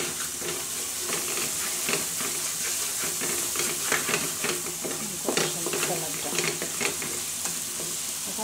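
Spice masala with a splash of water cooking down in a pan for a shrimp and taro stolon curry, a continuous bubbling sizzle broken by frequent scraping stirs from a spoon.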